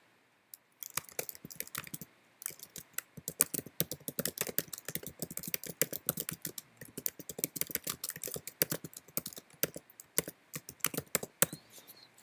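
Rapid clacking keystrokes on a computer keyboard as a title is typed into a document, dense irregular bursts of close, crisp clicks with brief pauses, no voice.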